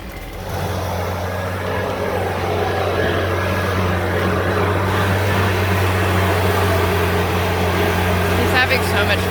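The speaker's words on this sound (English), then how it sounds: "if you have your gas powered blower, you can just zip all your leaves into a bed" A gas-powered garden backpack leaf blower runs at full throttle clearing leaves from a gravel walkway, a loud, steady engine drone with a low hum that holds unbroken throughout, close to the listener.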